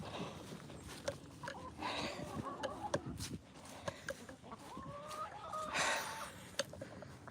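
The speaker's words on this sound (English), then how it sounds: "So I'll go over here and let the chickens out." Backyard chickens, about ten birds, cluck and squawk at close range after being let out of their coop on a December morning, with scattered calls and footsteps on the ground throughout.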